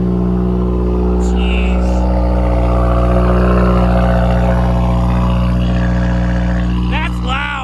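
A car engine idles high and loud on a factory cold start meant to heat the catalytic converter quickly, a steady rumbling drone across the whole clip with a brief exclamation and a little talk over it near the end.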